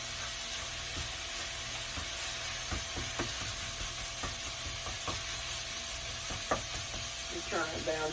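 Wild hog sausage frying in a pan, with a steady hiss and crackle throughout, accompanied by scattered soft clicks and scraping from stirring, close and fairly loud, with no voices.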